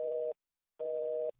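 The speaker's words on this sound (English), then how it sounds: "we tried a few more times, and still just a busy signal" A telephone busy signal: two steady tone bursts heard over the line, separated by a brief silence, clear and moderately loud with no voices.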